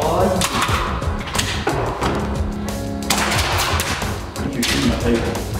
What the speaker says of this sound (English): You're shooting my table.